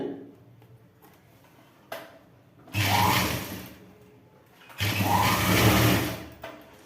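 An electric sewing machine stitches trouser pieces together in two sustained whirring runs of about two seconds each, after quieter moments of fabric handling and light clicks.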